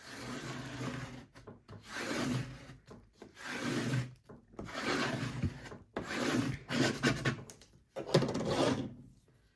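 Scraper tool rubbing firmly over Dollar Tree craft vinyl to press it down, a series of long, close, gritty back-and-forth scrapes separated by brief pauses.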